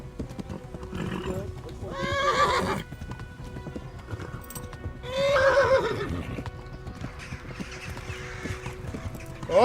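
In the Kingdom Come: Deliverance video game, a horse's hooves clip-clop at a gallop while it whinnies twice, loud and close, with a voice talking over the scene.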